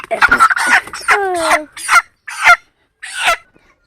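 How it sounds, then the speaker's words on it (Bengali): A chicken clucks and squawks up close in several short bursts, with brief pauses between calls. "তো এখানে আছে মুরগিটা"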